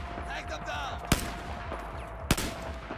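Gunfire in Battlefield 4, two sharp loud shots about a second apart over a busy background of game noise and faint distant activity.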